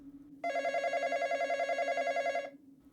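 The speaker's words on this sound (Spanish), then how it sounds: "el teléfono sonó" A telephone in a lobby rings with one continuous electronic trill lasting about two seconds, steady and fairly close. A low hum sits underneath, and no one speaks.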